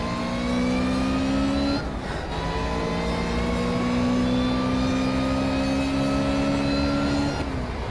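Ariel Atom 300 in Project Cars screaming at high revs on the Nurburgring, a steady loud engine drone with a brief dip near two seconds and another near seven as the gears shift.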